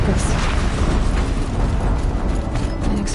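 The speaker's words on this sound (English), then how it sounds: "An explosion." Rumbling explosion with a steam blast in Horizon Zero Dawn, a dense, loud, sustained roar with gritty texture throughout, while a voice talks over it.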